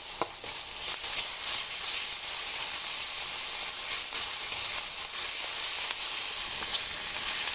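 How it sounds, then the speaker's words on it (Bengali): A paste of ground ginger, garlic and cumin with salt, turmeric and dried chili powder fries in a pan for a chicken and papaya curry, giving a steady, continuous sizzle with a few faint stirring clicks and no talk. "মশলাটা আমার খুব ভালো করে ভাজা হয়ে গেছে।"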